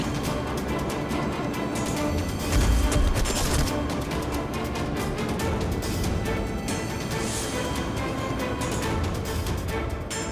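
Heavy gunfire is aimed at pigeons in a dense, continuous barrage of rapid shots that fills the whole stretch without pause, loud and close.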